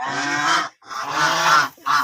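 Farm ducks of the large 'raja' breed give three loud, nasal honking calls close by, each lasting about half a second, separated by short gaps.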